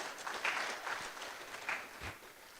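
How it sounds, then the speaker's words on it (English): Applause from a lecture audience at an inaugural university lecture in Ghana, honoring the Cocoa Board: a faint, steady patter of clapping from a distant crowd with small swells, no voices over it. "Please applause for the Cocoa Board for that"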